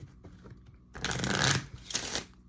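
Tarot cards are shuffled in two quick riffling bursts, close and crisp against a quiet room.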